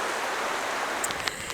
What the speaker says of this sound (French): Il pleut à seaux de malade.